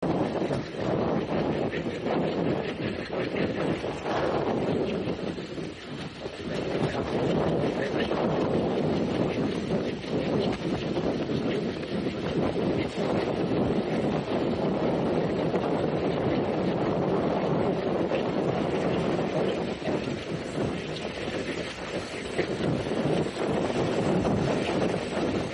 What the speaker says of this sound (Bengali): আমরা এখন Nimtala railway station through pass করে যাচ্ছি